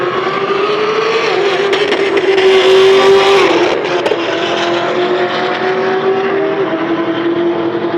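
A Camaro roars down a drag strip at a Hot Rod Power Tour event, its loud engine revving hard through gear changes as it accelerates away, continuous and powerful with no talk.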